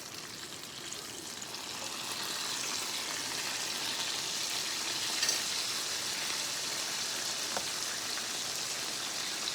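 Fried peach pies cooking in a pan of hot oil give off a steady, dense crackling sizzle that runs evenly throughout, with no talking.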